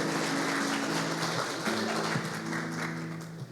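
A church congregation at a family worship service applauds steadily for a few seconds, a dense wash of clapping hands over low sustained organ or keyboard chords.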